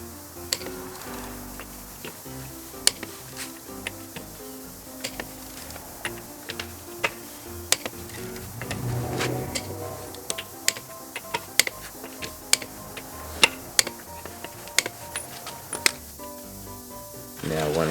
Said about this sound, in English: if you listen, you could hear the clicking of the torque wrench